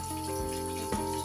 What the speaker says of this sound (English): You can hear the bubbling sound. That's it kicking right there.